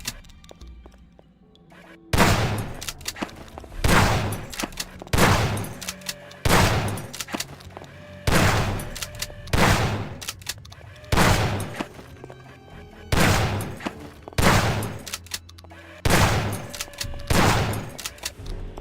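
Video game gunfire in a slow, evenly spaced series of about a dozen loud single shots, each a sharp blast with a short decaying tail, separated by quiet gaps.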